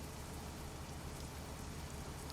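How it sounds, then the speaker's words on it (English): Steady, even rain falls in Euro Truck Simulator 2 as a dense, uniform hiss of drops on surfaces. It is fairly quiet and continuous, with no talking over it. "Oh, and it's raining all of a sudden."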